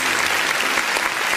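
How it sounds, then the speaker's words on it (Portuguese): Dense, sustained applause from a church congregation during an evening service, a continuous wash of many hands clapping at close range, brief and without speech. "As palmas exaltam o nome de Jesus"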